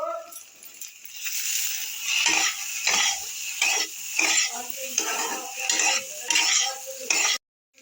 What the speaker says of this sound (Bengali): এবারে আমি নুন দিয়ে দিলাম নুন দিয়ে আর একটু নেড়ে নিই